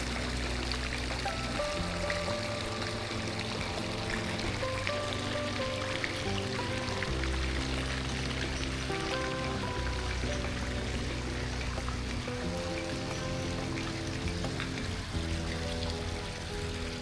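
A water feature in the grounds of the Parador de Mojacar hotel flows at night, giving a steady, even splashing and trickling wash that stays constant and moderately close.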